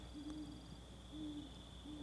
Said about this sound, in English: there's an owl in the background